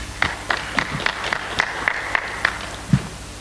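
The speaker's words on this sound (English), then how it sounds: "Can you clap for yourselves?" Clapping at a Pan-African conference on human rights and counter-terrorism comes as about ten sharp, evenly spaced claps at a moderate level, sounding like only a few hands rather than a full crowd.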